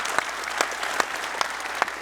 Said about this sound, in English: Do the applause.